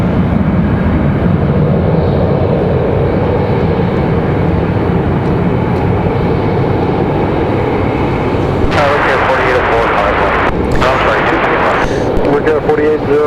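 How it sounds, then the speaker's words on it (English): A Southwest Airlines jet departing Raleigh-Durham International airport, a loud steady roar of engine noise filling the whole stretch, with rougher wind-buffeted bursts near the end. "Good departure, Southwest 1913"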